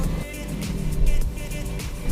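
Steady engine rumble from cars and motorbikes fills a jammed road leading to Klakah market, with a continuous close drone and vehicles passing nearby.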